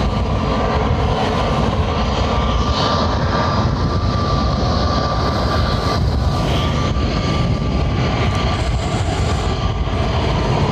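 An aircraft coming in to land at Lanzarote Airport makes a steady broad rumble with a faint whining tone, sustained and moderately loud for the whole stretch, without speech.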